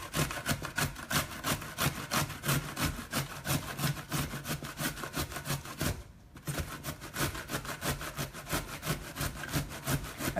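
Cauliflower is grated by hand on a cheese grater, giving a steady run of rhythmic rasping strokes, close and fairly quiet, broken by one brief pause midway before the scraping resumes.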